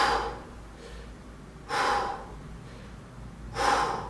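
Breathing during a Pilates exercise: three sharp, forceful breaths evenly spaced a couple of seconds apart, close and clear with no talk.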